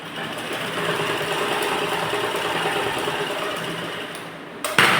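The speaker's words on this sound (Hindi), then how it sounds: "तो चलिए हम यहाँ से टक्स पॉइंट को सिलाई लगाते हैं पहले।" A sewing machine stitches tucks on a net fabric belt blouse, running in a fast, steady whirring chatter that stays close and loud for the whole stretch, then stops abruptly near the end.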